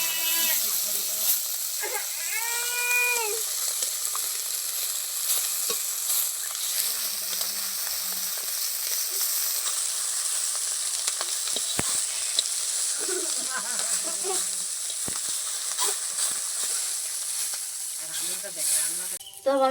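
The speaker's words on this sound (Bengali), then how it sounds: "তো আমার মাছ ভাজা হয়ে গেছে," Fish frying in hot oil in a Sundarban village kitchen: a continuous close hiss and sizzle throughout, with a voice talking now and then over it.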